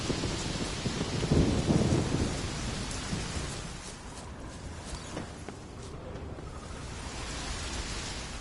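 A thunderstorm in The Witcher 3 with steady heavy rain, a loud rolling thunder rumble swelling early on then settling into a continuous rain wash that carries through to the end, with no voices.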